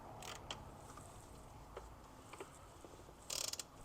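Ratchet driving a wobble socket onto a bolt on a 2008 BMW E92 328xi N52 engine, heard as faint, sparse clicks and a quick close burst of rapid ratcheting near the end.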